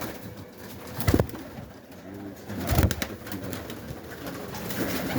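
Pigeons coo close by, with a couple of louder bursts like wing flaps and soft rhythmic cooing in between.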